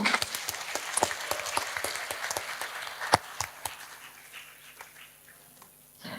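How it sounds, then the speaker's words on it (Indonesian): A crowd at an Islamic talk on Muslim women in the digital era claps in applause, scattered sharp claps loudest early on, then thinning and fading away toward the end. "Tepuk tangan dulu untuk kita semua."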